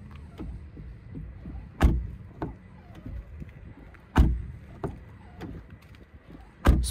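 Doors of a 2023 Seat Ateca FR closing, several solid thumps spread across the clip, the front one with a creaking hinge, each a sharp low impact followed by quiet.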